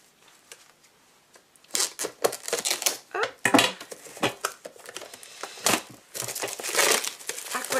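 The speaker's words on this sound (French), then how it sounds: "Désolée pour le boucan, mais j'ouvre vraiment en même temps que je vous montre." Plastic storage boxes are unwrapped close up, giving crinkling, crackling packaging and hard plastic clatter in irregular bursts that start softly and grow busier and louder.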